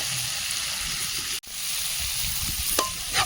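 Potatoes going into hot spiced oil in a home kitchen pan, with a steady bright sizzle and crackle throughout, a brief drop near the middle, then sharper spits and pops toward the end.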